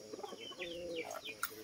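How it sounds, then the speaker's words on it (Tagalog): Chickens clucking on a farm, several short bird calls rising over a low, busy background, fairly close and with no talk over them. "Marami po mga manok dito mga kaidol."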